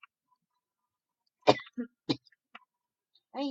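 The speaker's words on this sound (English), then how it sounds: "I'm sorry that I coughed so much." A few short, sharp coughs and throat clearings spaced apart in a quiet room, followed by a voice starting to speak.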